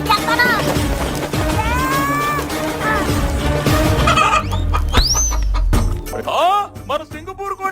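At a village cockfight, chickens cluck and squawk loudly and repeatedly, with rising and falling calls over excited crowd chatter and shouting from several people nearby.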